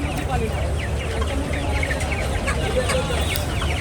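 Chickens cluck steadily at the Tongi Bazar poultry market, where native hens are sold in pairs; many birds chatter at once in a dense, continuous din under constant market bustle.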